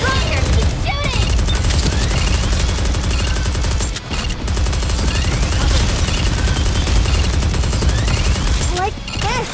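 Constant rapid gunfire from Goddess of Victory NIKKE fills the scene, loud and dense, with sweeping synth effects layered in. Game voices and music play under it, with two brief dips in the barrage.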